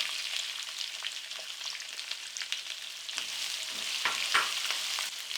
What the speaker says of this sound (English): Cook these onions until they slightly start to get some color and soften.